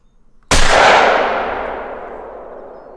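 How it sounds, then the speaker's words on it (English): A single hunting rifle shot fired at a coyote in theHunter: Call of the Wild, a sharp loud crack with a long, slowly fading rumble afterward. "I don't see why we couldn't take a shot on him."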